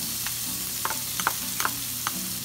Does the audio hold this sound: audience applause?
no